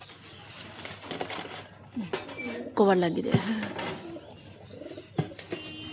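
A pigeon in a cage makes brief coos and a burst of wing flapping amid household clatter, close by, while a person talks over it.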